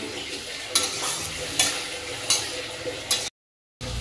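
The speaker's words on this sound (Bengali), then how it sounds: "একটু হিঙের গুঁড়ো দিয়ে ভাজ, তাহলে মাশরুমের যে গন্ধটা থাকে সেটা চলে যায়" White oyster mushrooms frying with asafoetida powder give a steady soft sizzle, broken by four sharp scraping stirs of a spatula in the pan, then a short dropout of silence before the sizzle resumes.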